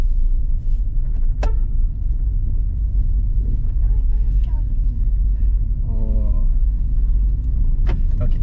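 A car pulls away from a driving-test exam area at the DETRAN, its low engine rumble steady and close from inside the cabin, with a few brief clicks and short murmurs of voices.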